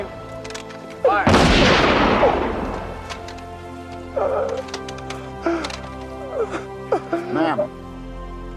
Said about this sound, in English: firing party, fire 3 volleys